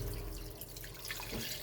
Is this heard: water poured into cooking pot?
yes